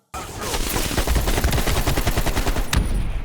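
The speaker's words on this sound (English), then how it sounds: "COD Black Ops Cold War's AK-47 is just dull. It's like it creates a flapping sound." An AK-47 fires a sustained, loud automatic burst of about three seconds in Call of Duty: Black Ops Cold War, the rapid shots running together into a flat, flapping rattle.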